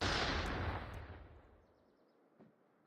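Gunfire from the ZRG rifle in Call of Duty Mobile, heard as a loud booming shot with a long decaying rumble that fades into a quieter background, then a faint second crack near the end.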